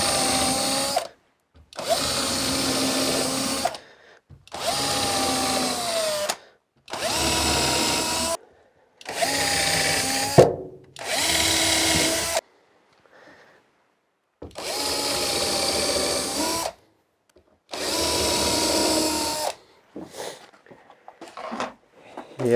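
A cordless power drill drives screws during a campervan build in a new Opel Vivaro, with about eight loud, close whirring bursts of a second or two each, separated by short silences, and faint handling noises near the end.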